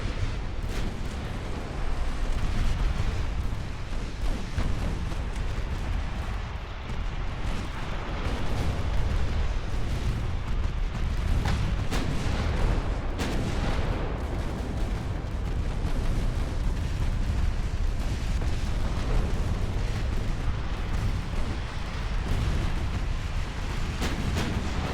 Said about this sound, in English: Well, at least one of those torpedoes hit.